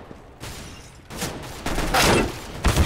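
Gunfire in Counter-Strike: Global Offensive, a run of loud close shots and bursts rising through the clip with a heavy thump at the end, under game ambience.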